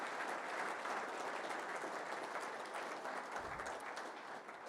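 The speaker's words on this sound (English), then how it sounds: "a big round of applause again for all of our winners and the nominees" A crowd at a safety kickoff meeting applauds the safety award winners and nominees, giving dense, continuous clapping that stays strong throughout and tapers slightly at the end.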